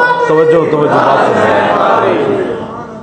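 A large crowd at a religious political rally chants a slogan in unison, a loud, sustained roar of many voices that swells and slowly fades.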